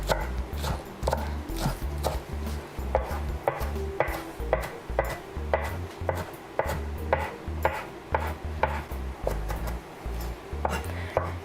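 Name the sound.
knife chopping fresh spinach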